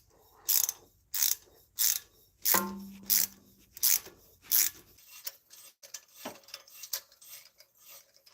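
Ratchet tightening exhaust manifold bolts on a Chevy Astro, a close series of sharp back-and-forth clicking strokes at a steady pace, followed by softer, quicker ratcheting and light metallic handling noises.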